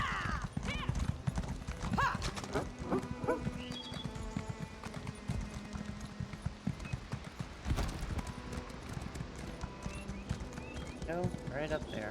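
Horse hooves clip-clop at a steady gallop in the video game Elder Scrolls Online, with occasional whinnies, under game music and a voice talking throughout.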